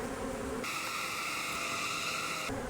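Honeybees hum inside an open hive during an inspection, a steady close drone that briefly rises to a higher, brighter buzz in the middle before settling back.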